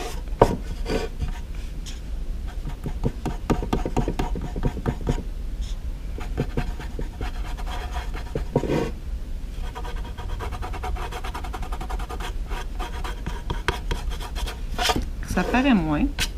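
Paper being rubbed off an image transfer on canvas, a continuous close scratchy rasping with irregular strokes throughout, and a brief voice near the end.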